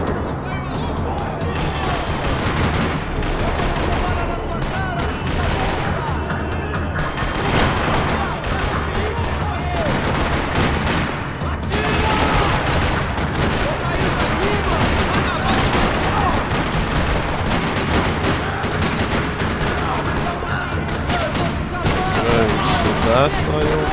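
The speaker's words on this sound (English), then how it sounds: "Another parking lot rattling with gunfire." Dense, continuous gunfire rattles throughout Max Payne 3, with bursts and volleys layered over a busy, loud game soundscape in a parking lot and occasional voices.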